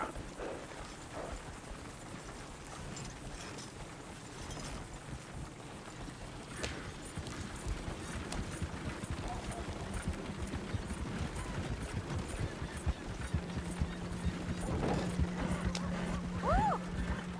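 A horse gallops in Red Dead Redemption 2, its hoofbeats a steady rumbling patter under rushing wind noise for the whole stretch, with a brief voice and a low sustained tone near the end.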